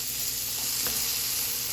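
A burger and peppers sizzle and fry in a pan with a constant close hissing crackle and a faint stirring tick, with no voices.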